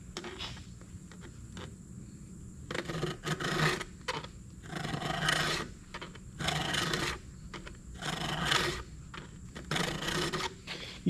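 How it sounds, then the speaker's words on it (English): Square file rasping across a chainsaw chain, worked from the inside out, with roughly seven distinct strokes each lasting about a second, separated by brief pauses and close to the listener. "You just get a better filing pushing from the inside out."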